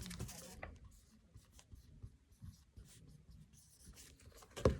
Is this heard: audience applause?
no